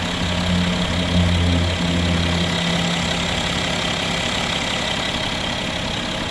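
The 3.0-litre diesel in a 2011 BMW 740d F01 xDrive idles with a smooth, even drone, steady and unbroken at close range, with no voices.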